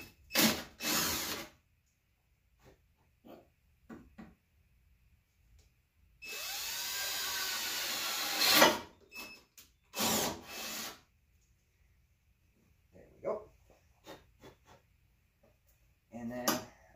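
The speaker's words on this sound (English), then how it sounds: "So I'm going to go ahead and drill this out." A power drill bores through a template on a 1977 Chevy Camaro in a few short bursts and one longer whining run, close and loud, separated by quiet clicks and handling noises.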